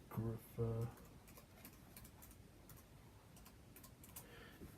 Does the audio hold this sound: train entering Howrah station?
no